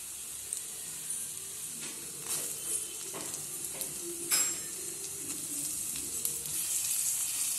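Onion and tomato sauté in a pan with an even close sizzle, broken by repeated spatula scrapes and clinks against the pan.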